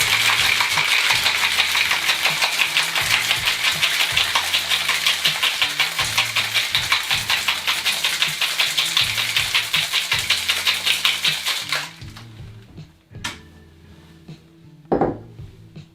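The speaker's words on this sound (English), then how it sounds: "give it a nice hard shake now, 8 to 10 seconds, get nice and chill" Lidded cocktail shaker rattled hard with ice for a stirred-style Irish Manhattan, a fast dense metallic shuffle lasting about twelve seconds, then stopping, followed by a few faint clinks and a soft knock.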